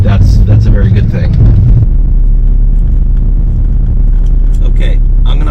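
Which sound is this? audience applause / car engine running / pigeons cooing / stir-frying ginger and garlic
car engine running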